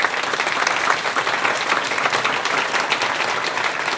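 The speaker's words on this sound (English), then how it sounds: "let's just start by giving our honorees a round of applause" At an honors convocation, an audience applauds the student honorees with dense, sustained clapping from a large crowd that holds steady and loud throughout.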